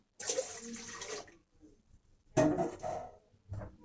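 Milk and water are poured into a bowl for cinnamon roll dough: a longer splashing pour, a pause, another pour, then a short final splash, all close and without talk.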